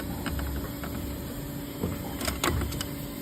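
Mold type spiral duct forming machine running, a steady mechanical motor hum with intermittent clicks and clanks from the forming mechanism, close and continuous.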